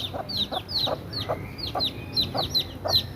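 Many chicks and chickens peep repeatedly, a string of high chirps at a steady pace, close by over a low background rumble.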